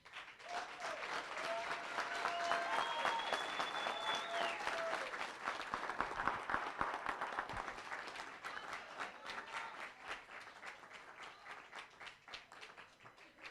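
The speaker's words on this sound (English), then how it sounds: "they deserve a huge round of respect and a round of applause" Sustained audience applause for the coaches at a bench press championship, broad and steady clapping from a crowd that holds for several seconds and then thins into scattered, livelier claps, with a faint voice under it.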